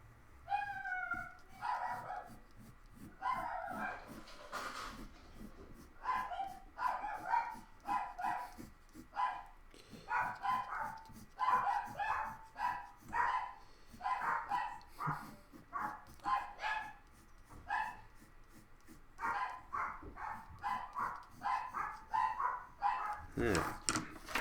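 Several dogs barking repeatedly in bursts throughout, fairly close, with some yips mixed in and occasional background noise.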